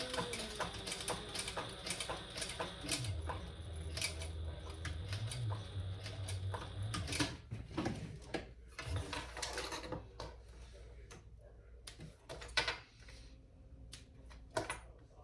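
A sewing machine runs bursts of stitching on a crossbody bag, with a motor hum and rapid needle clatter early on. Irregular clicks and handling knocks follow in a quiet room.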